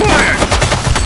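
A short, loud burst of rapid video-game gunfire, several quick shots crowding one another close up, with a hint of a voice underneath.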